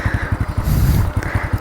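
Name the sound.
motorcycle engine running during a riding lesson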